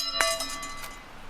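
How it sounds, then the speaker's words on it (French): A metal bell in a hidden garden is struck once and rings out with a bright, clear tone, followed by a few lighter clinks as the ringing fades. "Il y a la cloche, ouais, aussi."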